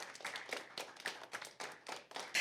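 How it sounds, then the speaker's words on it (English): A small debate audience gives a round of applause for the judges, quiet, uneven bursts of hand clapping coming in separate waves, with a sharper, louder clap at the end. "Round of applause for our judges."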